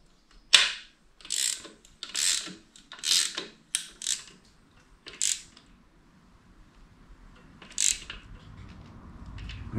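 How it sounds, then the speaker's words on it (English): A hand ratchet clicks in several short, close bursts as it tightens the rocker box bolts on a Harley-Davidson Sportster motorcycle engine, with quiet pauses between strokes. "just got one finger on the end of the ratchet"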